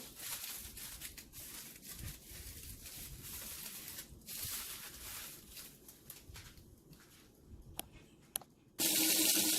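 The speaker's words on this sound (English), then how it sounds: "I am rinsing it out with lukewarm water" Lukewarm water from a tap runs steadily while hair is rinsed, a continuous splashing hiss with small shifts as the stream moves. No one speaks, and a louder gush of water comes in near the end.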